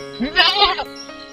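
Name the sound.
goats bleating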